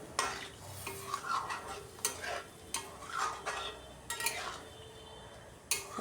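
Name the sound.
stirring and mixing rohu fish curry with vegetables in pan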